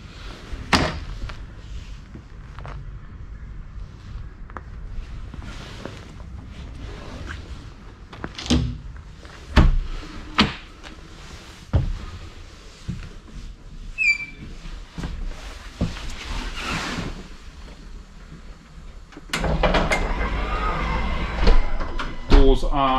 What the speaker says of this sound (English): Doors are electric rather than air,